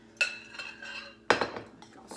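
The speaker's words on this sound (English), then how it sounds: "So I'm just going to stir that up," A utensil stirs waffle batter in a bowl, giving two sharp clinking scrapes against the side followed by softer rattling taps, close and clear, with no talking.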